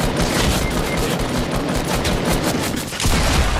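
Dense, continuous turret gunfire crackles in rapid overlapping bursts during a Fortnite match. The sound is loud and close, with no pause.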